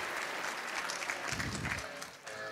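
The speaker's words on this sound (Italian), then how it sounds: "Facciamo un applauso" Audience at the Odoo Days Italia 2024 conference applauds a sponsor, a short, steady burst of many hands clapping that thins slightly near the end, with faint music or voice underneath.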